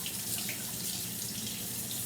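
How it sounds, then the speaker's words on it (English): Cold water runs from a tap over a raw pheasant being rinsed in a sink, a steady close splashing stream that continues without a break and with no voices. "Now I'm gonna rinse it, just cold water,"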